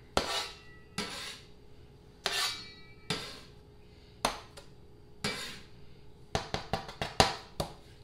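A spatula sets shortbread cookies onto a metal baking sheet, giving a series of sharp metallic taps and scrapes, spaced out at first and then quicker toward the end, close and fairly quiet.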